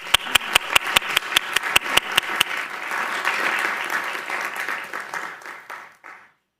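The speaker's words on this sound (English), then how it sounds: "please come forward and a round of applause" Applause at a school board meeting, opening with a run of loud, evenly spaced single claps close by, then swelling into a dense crowd clapping that fades away toward the end.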